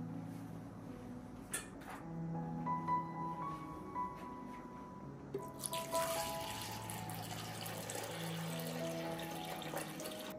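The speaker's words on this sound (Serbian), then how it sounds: "Šerpu ću napuniti sa vodom." Water runs into a cooking pot lined with a cloth and filled with jars, a faint trickling and dripping that swells into a fuller pour partway through.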